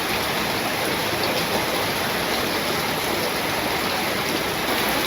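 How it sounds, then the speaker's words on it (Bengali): Heavy rain pours down in a steady, dense wash of noise that holds at an even level throughout, with no voices over it. "এমন বৃষ্টি গো"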